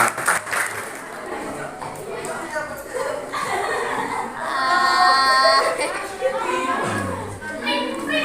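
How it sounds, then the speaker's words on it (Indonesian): A class of seventh-grade students clapping for a group during a waste-processing lesson. A scattered round of claps comes up under teacher and children's talk, laughter and classroom chatter, then fades back into voices. "Coba tepuk tangan untuk kelompok 9"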